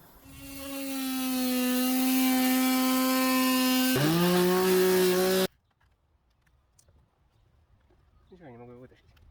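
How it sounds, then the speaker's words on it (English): An oscillating multi-tool cuts close to metal, giving a loud, steady high buzz that dips in pitch as the blade bites in, then stops abruptly, followed by quiet and a brief faint voice. "I like the oscillating tool, and we're just going to cut it a little bit more here."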